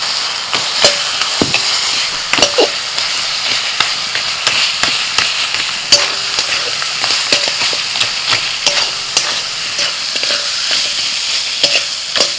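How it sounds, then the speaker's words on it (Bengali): A rohu fish head is fried and stirred in a pan of red chilli masala: a steady sizzle, broken by regular scrapes and knocks of the spatula close by, with no talking. "বেশ ভালো করে কষিয়ে নিয়েছি মাছের মাথাটা দিয়ে।"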